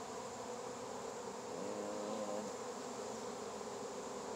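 Honeybees buzz around an open hive in Fairplay, Maryland, in February, a continuous, even drone of many insects close by, holding steady throughout.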